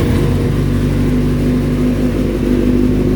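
A Suzuki GSX-R 750 motorcycle with exhaust baffles removed runs at a loud, steady, close-up rumble throughout, with low droning engine tones and no voices.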